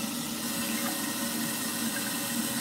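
Tap water pours steadily over cooked pasta draining in a strainer, a constant close rushing hiss with no pauses and no voices.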